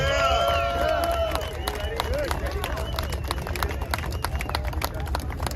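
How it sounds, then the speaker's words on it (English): Crowd at a convoy rally at Hagerstown Speedway applauds and cheers for volunteer staff, steady claps amid loud babble and shouting voices, sustained for several seconds. "I want to give them a round of applause for all their hard work and dedication."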